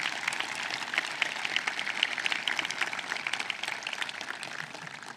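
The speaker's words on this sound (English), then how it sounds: "please give everyone a round of applause for all of the work" A crowd at the 2022 ABRHS graduation ceremony gives sustained applause for faculty and staff, a dense, steady patter of many hands clapping throughout.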